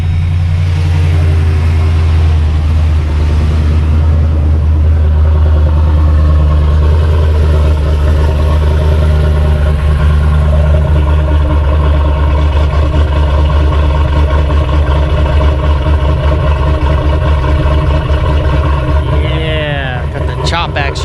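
Choppy, lumpy idle from an LS2 V8 in a work truck with a swapped cam, right after a cold start; loud, steady and close for the whole stretch, with a voice talking over it.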